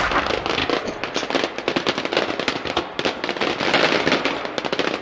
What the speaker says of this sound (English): What is it with you and fireworks?